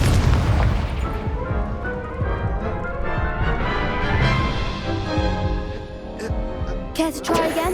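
Incendio fire spell blast cast during a duel in Hogwarts Legacy, a loud booming burst that fills the clip with a dense, rumbling explosion, layered over game music and sound effects.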